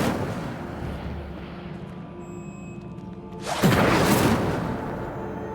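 Incendio fire spell cast in the Hogwarts Legacy video game: a sudden loud fiery burst with a rushing, crackling roar erupts after a quieter ambient stretch, then sustains and slowly eases.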